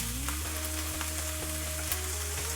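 Onions sauté in a pan with salt, a soft, steady sizzle, fairly faint, alongside a low background hum with regular faint ticks.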